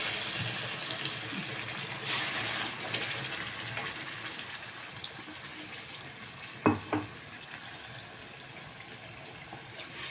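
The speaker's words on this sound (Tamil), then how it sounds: "எவ்வளோ தண்ணி வேணுமோ நம்ம குழம்பு வைக்கிறதுக்கு அதுக்கெல்லாம் ஊற்றிக்கலாம்." Water poured into a curry pan of fried masala and onions for beans kottai kuzhambu: a close, gushing pour runs over a faint sizzle, with a brief splash early and a couple of sharp knocks near the end.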